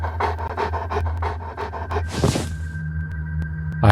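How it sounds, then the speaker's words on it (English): A crazed dog pants rapidly and rhythmically in The Elder Scrolls IV: Oblivion, close and steady over a low game drone, then breaks off with a rough burst before the ambient hum continues alone. "I hear a dog. Crazed dog."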